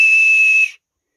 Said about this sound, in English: Like my Oscar Mayer Wienermobile whistle.